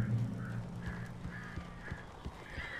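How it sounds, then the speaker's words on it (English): Crows cawing in the video game Alan Wake, a series of short harsh calls repeating about every half second over a low game-sound bed, fairly close and steady throughout. "There's a bunch of crows, right?"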